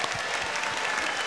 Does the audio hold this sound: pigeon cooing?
no